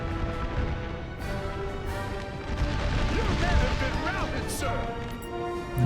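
Booming cannon fire from a 12-pounder Napoleon battery in an American Civil War video game, heavy blasts and crashes under a dense, continuous battle din while someone talks over it.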